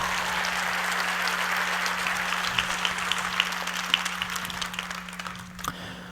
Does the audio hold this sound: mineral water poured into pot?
no